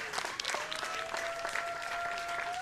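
A crowd at an evening baseball game applauds steadily, a dense patter of clapping heard from a moderate distance over a faint steady tone.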